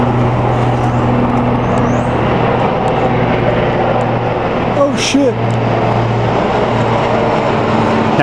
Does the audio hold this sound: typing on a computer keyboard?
no